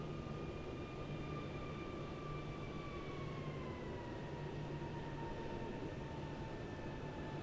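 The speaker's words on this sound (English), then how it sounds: "Oh, there's a plane coming in." A simulated airliner approaches in Microsoft Flight Simulator 2020, on a Cairo to Bodrum route, as a steady engine drone with high whining tones that slowly slide downward, heard alone and at constant loudness.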